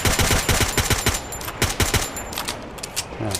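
Rapid bursts of gunfire in Free Fire crackle in quick succession, close and loud, with short pauses between volleys and no talking.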